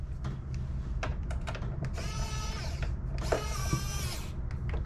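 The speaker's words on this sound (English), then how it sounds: "we're gonna flip it over and we're gonna install the two long screws" Screws are driven into a PS5 console with a power screwdriver, making two sustained whirring bursts near and loud among light clicks and handling taps.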